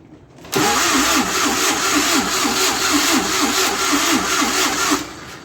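The engine of a YuMZ-6 tractor, cold, is cranked by its starter. A loud, rhythmic churning of repeated compression pulses runs for several seconds, then eases off. The sound is close and alone.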